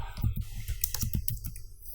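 Keys clicking in quick, uneven bursts as someone types search terms into a computer keyboard, close and clear with no talking.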